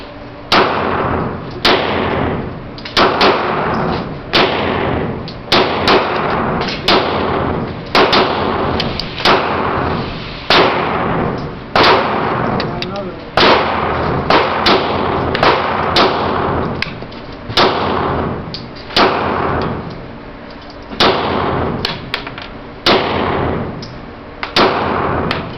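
A Glock 19 Gen 6 pistol fed from a Metgar metal magazine fires a long string of sharp, loud reports at close range, in quick, fairly even bursts with short pauses between shots.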